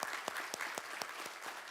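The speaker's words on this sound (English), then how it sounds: "I think it'd be fitting to give those folks a round of applause" A church congregation applauds in honor of military service members at a Memorial Day service, scattered but steady claps heard faintly, with a few sharper individual hand claps standing out.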